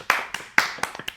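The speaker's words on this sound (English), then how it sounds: "Round of applause, guys." A few people clap in a small room during a podcast recording, sparse uneven claps sounding close and distinct rather than a full crowd, over about a second.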